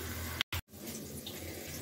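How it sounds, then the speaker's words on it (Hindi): Excess water drains from cooked biryani rice, a soft, faint, steady pour and trickle that cuts out briefly before running on quietly. "अभी जो इसका एक्स्ट्रा पानी है तो वो मैं निकाल रही हूँ।"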